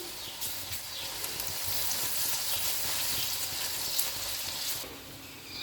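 Ground garlic and dried coriander fry in a pan of hot oil while cooking tinda masala, giving a steady, close sizzle with light crackle throughout and no talking.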